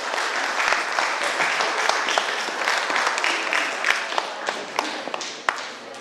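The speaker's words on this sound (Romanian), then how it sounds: "haideți să-i aplaudăm pe toți concurenții" Audience applause fills the space for the contestants at a traditional customs festival in Dofteana, a steady dense clatter of many hands with a few sharper claps standing out, fairly near and sustained throughout.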